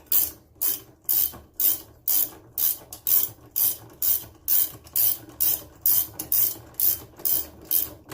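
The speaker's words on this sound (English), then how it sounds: "Now we're going to go ahead and install the bolt." A ratchet tightening the agitator bolt on a washing machine, giving about fifteen evenly spaced clicking strokes, close and alone with no talk.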